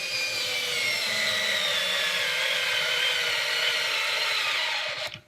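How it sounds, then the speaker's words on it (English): TopShak 4V cordless screwdriver driving a screw into wood, a steady whirring motor drone with a slowly falling pitch as it labours, lasting about five seconds before it stops abruptly. "Let's try putting some screws on the side over here."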